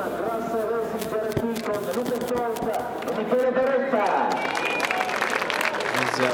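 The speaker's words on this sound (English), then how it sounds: "There's a round of applause for those guys who are still here." Crowd applause for drivers on the podium at a Blancpain GT Series sprint race at Misano, scattered clapping mixed with a voice speaking over it and background music or crowd noise.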